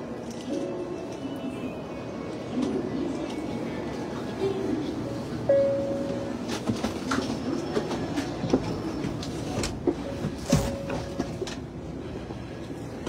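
Inside a Japanese bullet train, a steady low rumble of the moving carriage fills the cabin with faint rhythmic clicks and a few brief tonal chimes, while someone talks intermittently over it.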